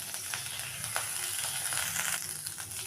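Grated coconut stirred in a spoonful of hot ghee for gujiya stuffing, a soft close sizzle with a few brief stirring scrapes, moderately quiet and steady.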